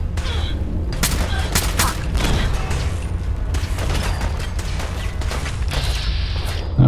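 Rapid, continuous gunfire from the Fallout 4 video game, loud dense bursts of shots and booms layered over a steady low rumble for the whole stretch.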